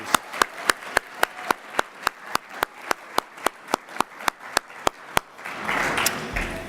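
At an award dinner, an audience claps in crisp unison to a steady beat for several seconds, then dissolves into a brief wash of loose, scattered applause.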